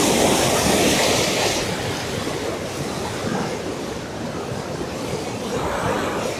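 A waterfall at a scenic outdoor spot, a loud, steady broadband rush of falling water that continues without pause.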